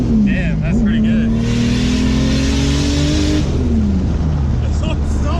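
A car with a Toyota 4AGE engine drives and accelerates hard, the engine rising in pitch through the revs, easing, then climbing again, loud and close, with people talking over it.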